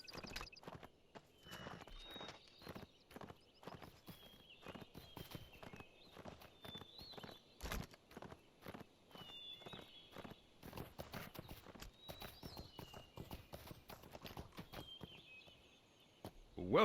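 Horse hooves clip-clop at a steady walking rhythm while riding out in the online game Lord of the Rings Online, the regular footfalls close and clear over a faint ambient backdrop.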